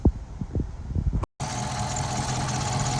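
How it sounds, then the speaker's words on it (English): A Chrysler 300 with a 5.7 engine and an oil leak idles, a steady close rumble that cuts briefly before resuming evenly, with earlier low thumps and no talk. "That's that grown man engine right there."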